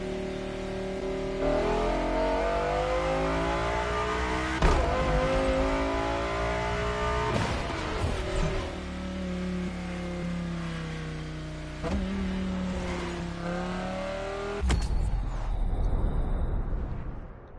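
Audi R8 engine in The Crew Motorfest racing game, accelerating in long rising pulls with several gear shifts and throttle lifts, a steady loud drone ending in a final burst and cut, no talk.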